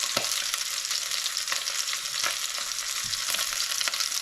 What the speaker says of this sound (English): We're just going to try to brown it on all sides.